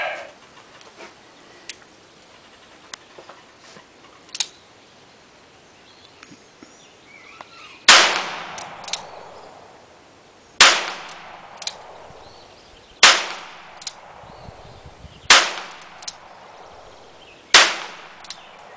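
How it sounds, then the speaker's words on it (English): Five loud, sharp revolver shots from a Ruger New Model Single Six ring out close by, spaced a couple of seconds apart, each with a brief ringing tail, after a quiet stretch of faint background noise. "first shot's out of the Ruger"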